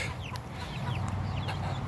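Sapphire Gem chickens cluck nearby, a few short squawks and chirps scattered over a steady low background hum, with nobody speaking.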